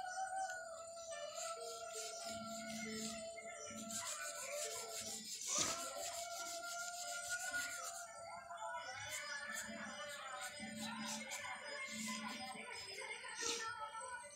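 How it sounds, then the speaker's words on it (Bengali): Sky blue soft pastel rubbed across paper, soft repeated scraping strokes at close range under ongoing background sound. "স্কাই ব্লুটাকে নিয়ে ঠিক এইভাবেই আবার ঘষে দেবো"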